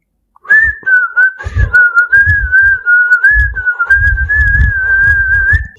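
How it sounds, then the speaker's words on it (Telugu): Someone in a village whistles a steady, sustained high tune, loud and close, with soft thumping movement noises underneath and no talk. "అరే నువ్వెందుకు విజిల్ కొడుతున్నావురా?"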